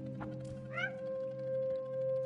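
A cat meows once clearly with a rising, bending cry, close and fairly loud over a steady mechanical hum from a machine running throughout.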